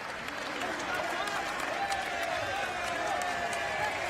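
Basketball fans in a Portland arena jeer the officials after a foul call, a steady broad roar of crowd noise and scattered clapping that holds throughout, with commentators talking over it.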